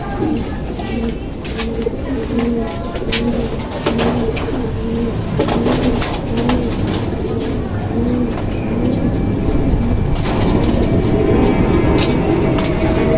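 Racing pigeons coo repeatedly and close by during feeding, with soft rhythmic calls over a constant background rumble and a brief voice in the mix.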